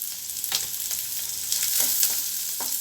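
Grated coconut and onions sauté in a pan for a coriander chutney, giving a steady close sizzle with a few scraping stirs of a spoon against the metal, and no voices.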